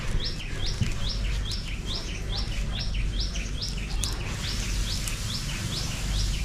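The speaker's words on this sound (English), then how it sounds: "The other bird flew away, but this one, he wants to stay with us by the looks of it." Small bird chirping repeatedly in a steady rhythm of short bright calls, close by and clear over a constant low background rumble in Luang Prabang, Laos.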